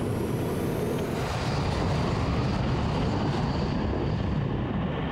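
Engines of a C-5 cargo plane roar at full thrust on the runway during takeoff, a loud, steady, broadband rumble filling the whole stretch without a break.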